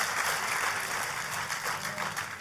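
A church congregation applauds during a sermon, a continuous even hiss of many hands clapping with no voices standing out.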